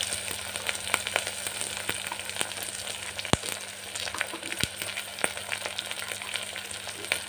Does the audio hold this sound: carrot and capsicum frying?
yes